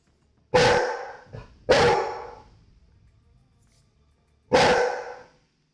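A dog barks loudly at close range: two sharp barks in quick succession, a faint yip between them, then a pause and a third bark.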